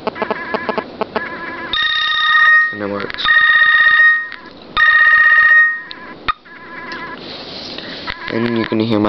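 Cell phone ringing from a free VoIP call placed with the Fring app on an iPod touch, a loud electronic ringtone in repeated bursts with beeps and short gaps, and a voice briefly heard between rings.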